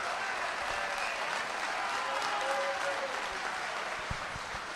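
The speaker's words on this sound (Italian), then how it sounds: "Poi più applaudite, più a casa capiscono che siamo in tanti" Dense, sustained applause from a large audience at a political rally, a continuous close roar of many hands clapping with faint crowd noise beneath, steady throughout.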